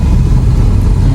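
Dense city traffic with motorcycles and tricycles around a car in Mandaluyong, Metro Manila, giving a steady low engine rumble and idling drone throughout, loud and continuous with no clear separate passes.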